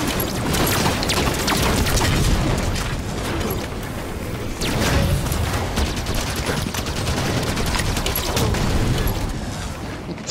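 Chaotic weapons fire in a Halo 5 Fiesta match, with continuous volleys of gunshots, booms and mechanical clatter rolling on loud and steady, punctuated by sharper blasts.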